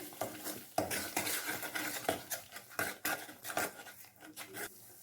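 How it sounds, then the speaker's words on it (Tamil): A spoon scrapes and clinks against a pan as small-onion thokku is mixed with chilli powder and salt, a busy close run of irregular metallic scrapes and taps with a faint sizzle underneath. "எல்லாத்தையும் நல்லா கலந்து விடுங்க"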